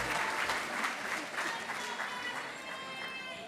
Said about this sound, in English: One more round of applause for 30 or more years of service in Chapel Hill-Carrboro City Schools.